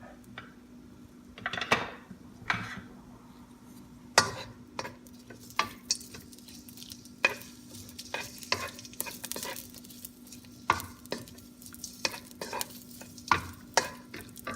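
Onions sizzle and fry in a pan for red snapper with garlic and bok choy, with repeated sharp scrapes and clacks of a utensil stirring them at close range, alone without talk.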